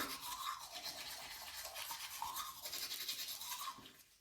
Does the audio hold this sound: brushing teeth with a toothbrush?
yes